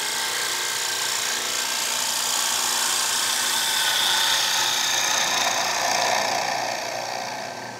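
Wood lathe taking a light trimming cut across the top of a square wooden bowl, a steady broadband hiss and whir of the tool on spinning wood, loud and continuous throughout with no talk.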